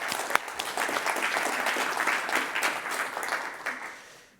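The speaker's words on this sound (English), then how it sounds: "a round of applause" A round of applause from a conference audience at a pre-seed startup summit, broad even clapping from a crowded room that holds steady and then fades away.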